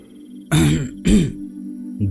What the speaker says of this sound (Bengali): একটু কেশে গলাটা পরিষ্কার করে বললেন